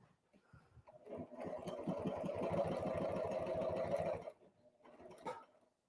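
An HD9 sewing machine stitches leather in one close, steady run of rapid needle thumping that lasts about three seconds. A short second burst follows after a brief pause.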